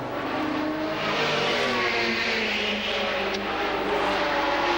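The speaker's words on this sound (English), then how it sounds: "There is Jaguar number 5 going through." Jaguar sports prototype race car at the 1987 Le Mans 24 Hours, a loud sustained engine roar with high whine as it passes along the circuit amid track ambience.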